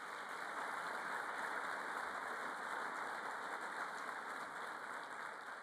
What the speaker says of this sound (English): Can we give them all some applause?